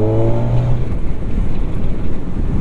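Kawasaki Z1100 motorcycle engine running loud and steady, a low harmonic drone at first that merges into a dense continuous rumble, with no talk over it.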